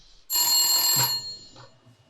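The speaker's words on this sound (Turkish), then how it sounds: "Telefon çalıyor." A telephone rings inside the survival game The Long Dark, a single bright electronic trill burst lasting under a second, loud and close, then trailing off into a faint tonal hum.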